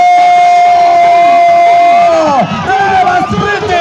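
At a Tour du Rwanda cycling race sprint, a loud roadside crowd cheers and shouts over a sustained whistle-like tone that bends and breaks up as the noise swells.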